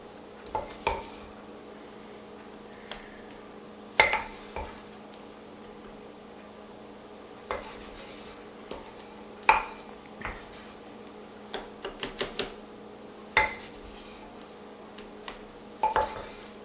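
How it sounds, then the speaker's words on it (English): Hot homemade soap is scraped from a pot with a utensil, giving scattered sharp metallic scrapes and knocks at irregular intervals over a low steady hum. "try to scrape as much of this out of the pot as you can"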